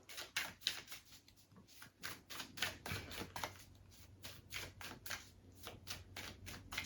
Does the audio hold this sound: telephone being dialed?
no